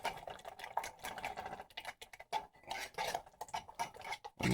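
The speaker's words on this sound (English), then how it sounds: "We're just gonna mix that in real good." A spoon stirs biscuit gravy in a pan, making repeated close scraping and clinking strokes in an uneven rhythm.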